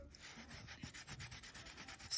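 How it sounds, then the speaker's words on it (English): Sandpaper rubbing along the edge of a baked polymer clay pendant, a steady run of quick scratchy strokes, close and fairly quiet, with no talking. "I'm just sanding this edge so that when I put the bezel on, it's nice and straight and flat."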